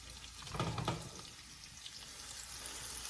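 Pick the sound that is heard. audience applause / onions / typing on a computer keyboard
onions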